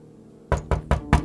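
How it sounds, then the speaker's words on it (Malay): Four sharp knocks on a door, evenly spaced and loud, following a brief quiet moment, with no voices present. "Tidak lama kemudian, pintu mereka diketuk."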